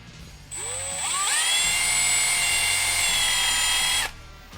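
A drill bit bores into a plastic Funko Pop figure, its whine rising in pitch as the motor spins up, then holding a steady high-pitched buzz for about three seconds before cutting off.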